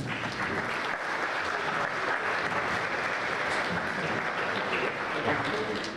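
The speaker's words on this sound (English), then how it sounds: "let's give a big round of applause for organizing committee" A gala audience gives a big round of applause for the organizing committee, a continuous, even wash of many hands clapping at a distance, with faint voices mixed underneath.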